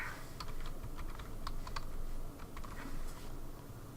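Quick irregular clatter of keys on a computer keyboard while entering an Excel formula, close and fairly quiet, steady bursts of taps with no talking.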